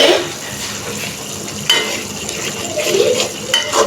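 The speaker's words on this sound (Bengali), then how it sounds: "আমি এখানে মশলাগুলোকে কষিয়ে নিব" Spices sautéed and stirred in a pan, a steady sizzle with scraping strokes of a spoon and a few clinks against the pan, close by and moderately loud.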